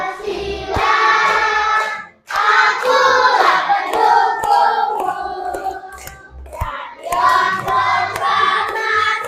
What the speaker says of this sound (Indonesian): tepuk tangan dulu untuk Giran